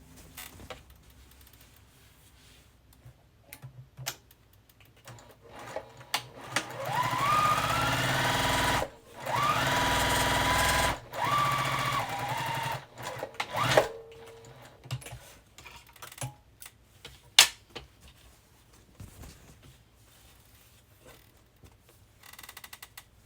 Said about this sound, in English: just line it up and sew it together.